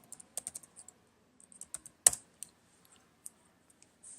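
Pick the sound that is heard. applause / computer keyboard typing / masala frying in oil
computer keyboard typing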